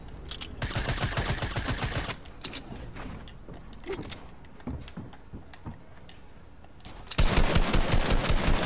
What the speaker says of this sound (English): let's pull out the shotgun